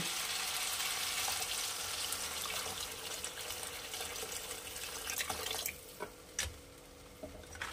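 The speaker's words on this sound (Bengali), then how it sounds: "এবার দিয়ে দেবো পরিমাণ মতো জল।" Water pours steadily into a pan of Bengali snakehead fish curry, a continuous splashing rush that eases off near the end into a few drips and clinks.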